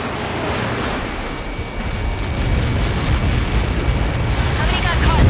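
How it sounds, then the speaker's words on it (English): Missile explosion in the video game Ace Combat 7: Skies Unknown, Mission 19, a loud, rumbling blast that roars on continuously and swells slightly toward the end. "How many got caught in that explosion?"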